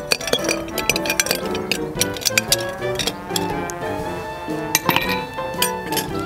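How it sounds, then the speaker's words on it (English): Ice cubes clink and rattle against a glass while a gin and tonic is made, a busy run of bright, close taps and knocks over a dense background. "So for this, we need a couple of pieces of ice. I normally try to use 2 or 3 cubes."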